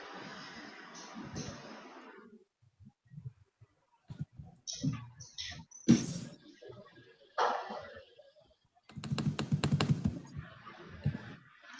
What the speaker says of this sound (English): Somebody's beating up their keyboard again.